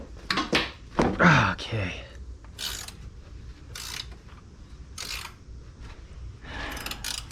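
A ratchet clicks as it breaks loose an 18mm bolt on the tie rod of a 2002 Pontiac Bonneville, with several short bursts of rapid pawl clicks up close and a brief spoken word early on.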